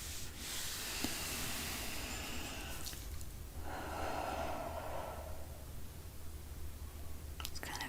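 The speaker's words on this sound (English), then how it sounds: "Just kind of breathing in and breathing out," Slow, soft breathing in and out during a quiet morning meditation, long gentle airy inhales and exhales close to the ear, hushed and steady against a low background hiss.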